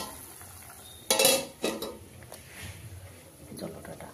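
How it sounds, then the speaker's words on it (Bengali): Metal puja utensils being scrubbed and washed: a couple of sharp clanks and scraping bursts, close by, followed by quieter rubbing and faint background noise, with no clear talking. "তখন আমি ঠাকুরের সব বাসনগুলো মেজে দিচ্ছি।"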